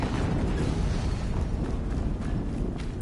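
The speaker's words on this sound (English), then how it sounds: "Another explosion." Explosions in Fortnite, heard as a continuous loud, rumbling low-heavy blast noise with no clear breaks, filling the whole stretch.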